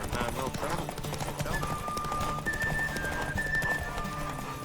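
Horse hooves clip-clop steadily in The Witcher 3 as the mount trots along, a close, rhythmic beat under in-game music and ambience.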